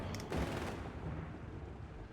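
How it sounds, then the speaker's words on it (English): MG42 machine gun fire in Company of Heroes 3, heard as a short, distant rattling burst followed by a rumbling tail, faint and with no talking. "starts with catching the sappers with the MG42 and their G43s"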